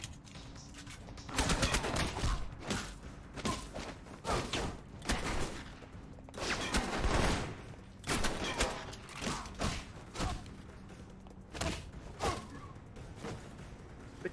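Enemy gunfire in the video game Alpha Protocol: rapid bursts of shots crackle in clusters over several seconds, fairly faint overall, with short pauses between volleys.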